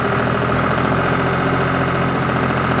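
A tractor engine runs steadily with the PTO gear engaged for a Jagatjit straw reaper, revved to about 1700–1800 rpm; the loud, continuous mechanical drone stays close and unbroken, with no voices over it.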